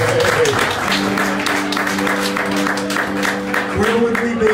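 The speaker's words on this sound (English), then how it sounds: "If y'all give a big round of applause to Mr. Larry Cooper." A crowd in a small bar applauds a string band's bass player, with sustained clapping over held instrument tones and some voices in the background.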